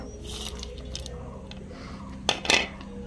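Chopped carrot, onion, coriander leaves and green chili are tossed with salt and whole cumin in a bowl for veg paratha, giving soft, scattered clinks and scrapes with a sharper clatter near the end, quiet and close.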